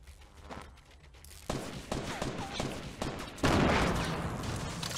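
Gunfire in the Fortnite video game, a burst of several sharp shots and rapid bursts, moderately loud, with a busier louder stretch toward the end and faint footstep-like sounds.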